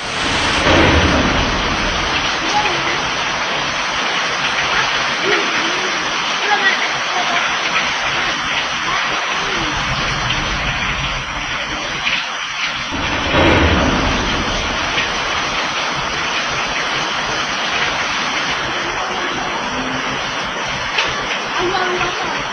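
Steady heavy rain pours throughout, with rolling thunder rumbling near the middle and again at the end, loud and continuous with no voices.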